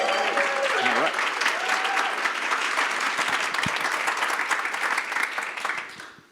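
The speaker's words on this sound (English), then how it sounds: "if y'all could help me with just a preemptive round of applause" A conference audience at the NewSchools Summit 2025 gives a sustained round of applause, a dense, steady wash of clapping that holds for several seconds, with a brief voice at the start, then fades out.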